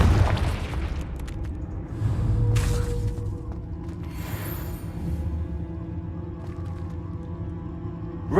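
Confringo fire spell explosions in Hogwarts Legacy, a deep rumbling boom with bursts of broad crackling energy over a sustained low roar, loud and close throughout the clip.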